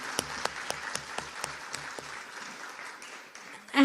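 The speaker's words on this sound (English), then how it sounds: "ask you for a really, really huge round of applause for Ralph and all of the Board of Directors of the Alumni Foundation" Audience applause at a high school alumni ceremony: a crowd clapping steadily at moderate distance with a few sharper individual claps, fading toward the end before a louder burst of noise.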